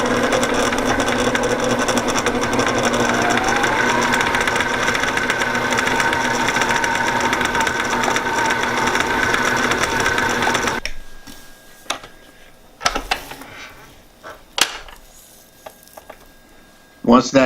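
Electric mixer beating almond crunch cookie dough at medium speed, a loud steady whirring drone close by for about eleven seconds that then stops, followed by scattered clinks and handling noises.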